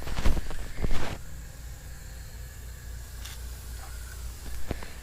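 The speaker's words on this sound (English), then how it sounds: "I'll spray that one as well" An aerosol can of undercoating spraying inside the wheel well of a Chevy Duramax dually truck, a continuous close hiss with a couple of louder bursts and rattles at the start and a brief knock near the end.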